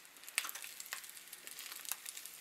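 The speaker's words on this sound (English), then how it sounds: "Let's put them on the frying pan. Okay, so you can hear it sizzling already" Heart-shaped breakfast food sizzling in a frying pan, a steady close crackle of frying with scattered sharper pops and spits, no voices.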